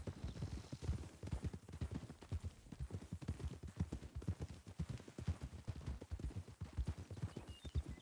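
Horse hooves clip-clop steadily in a video game, a dense run of close, even hoofbeats continuing throughout.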